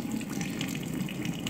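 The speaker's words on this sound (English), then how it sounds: "I want you to turn your water on," A laboratory water tap runs steadily during a filtration setup, a constant close hiss and splash of flowing water with no pauses and no voices.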